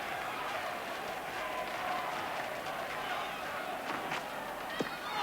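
Cricket crowd at a one-day international between New Zealand and England, a steady broad roar of chanting and clapping from the stands as the bowler runs in, with a commentator talking over it.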